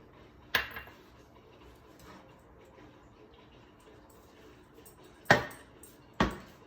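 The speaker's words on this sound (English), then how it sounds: "I'm going to add the butter." Butter goes into a warm frying pan, marked by a few sharp clicks and knocks against the pan, three distinct taps spaced apart over a quiet kitchen background.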